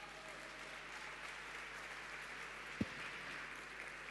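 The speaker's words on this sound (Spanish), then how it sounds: "Un aplauso para él," A crowd of community leaders applauds at a seminar, steady diffuse clapping across the whole stretch, broken once by a single sharp thump near the end.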